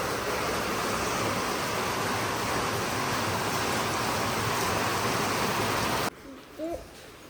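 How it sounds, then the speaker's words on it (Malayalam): Heavy rain falls in a dense, steady roar that stays loud and constant for about six seconds, then cuts to quieter room sound with a faint brief voice. "ഇവിടെ അതാ ഗംഭീര മഴയാ"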